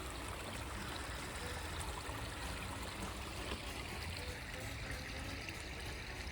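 A garden pond waterfall splashes and flows steadily on a cold, frosty morning, a constant soft rushing wash with no change throughout.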